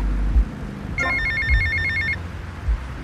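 Payphone ringing in the game GTA Vice City: a single electronic trill of repeated ring pulses lasting about a second, over a low rumbling game background with soft thuds.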